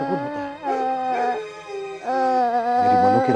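A dog howls at night in a period drama setting. Long, mournful, sustained howls rise and bend in pitch, with brief breaks between them, loud and near with no talk over them.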